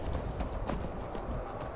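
Horse hooves clip-clopping in the video game Skyrim, a quick run of dull hoof thuds over a steady outdoor ambience, close and moderately loud.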